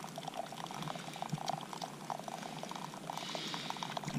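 Hot water pours steadily from a tap at a wood-burning camp stove in a hot tent, a soft continuous trickle and splash heard up close with no talking.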